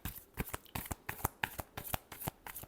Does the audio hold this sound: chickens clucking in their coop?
no